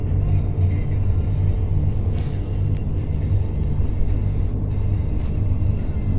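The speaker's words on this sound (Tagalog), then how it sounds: "Yung sounds ng kotse parang relaxing eh." Cars pass by steadily on an expressway, a continuous broadband road rumble with tire noise and occasional faint swells, loud and unbroken throughout.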